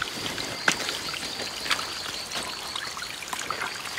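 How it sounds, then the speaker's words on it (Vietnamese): A steep mountain stream on a forest hillside flows downhill in a steady, continuous rush of water, with a few sharper splashes and faint bird-like chirps over it; no one speaks. "những cái khe suối nó cũng dốc, chảy dài từ phía bên trên xuống"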